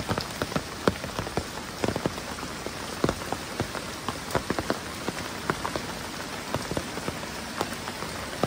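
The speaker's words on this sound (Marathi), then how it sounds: "सकाळपासून जोरात पाऊस पडतोय." Heavy rain pours down steadily over flooded village rice fields, with drops pattering and tapping on a nearby surface in a dense, irregular patter.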